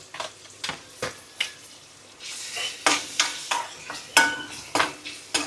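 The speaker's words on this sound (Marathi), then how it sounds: "याच्यामध्ये आता आपण टाकतोय कांदा आणि टॅमॅटो." Onion and tomato added to hot oil and stirred with a spatula for a clam masala, rhythmic scraping strokes against the pan about twice a second over a soft sizzle, close and clear.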